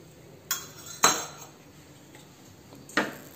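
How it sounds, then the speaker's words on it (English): A metal spoon clinks against a bowl while badam powder is added, three sharp separate taps over a quiet background with no voices. "I'll add 1 spoon of badam powder."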